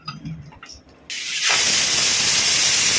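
A pressure cooker cooking cowpeas for usal bursts into a loud, sustained hiss of escaping steam after a brief stretch of quieter kitchen sounds, then holds steady and close to the end.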